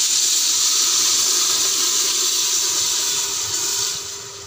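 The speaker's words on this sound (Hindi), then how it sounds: "ऑयल जो है वो गर्म हो गया है, अब हम इसमें गुड़ वाला पानी शामिल करते हैं" Strained jaggery water hits hot oil in a pan and sizzles with a loud, steady, hissing roar that holds for several seconds before easing slightly at the end; no one speaks.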